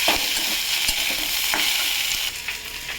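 Mustard paste and spices sizzle and fry in a pan while being stirred, a loud continuous crackling hiss broken by scraping strokes of the spoon, close up with no talking.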